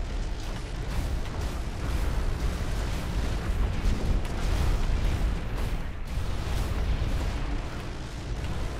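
Mech combat in the Hawken video game, with continuous gunfire and explosions forming a dense, loud rumble of booms and bursts that runs unbroken for the whole stretch.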